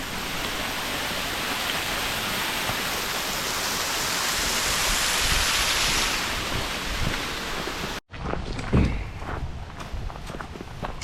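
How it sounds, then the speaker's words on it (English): A waterfall near an old mine in Kaymoor, West Virginia, roars with a steady, broad rushing wash close by, then drops to a quieter outdoor scene with faint rustles and footsteps. "This is it's the most like beautiful waterfall I've ever seen."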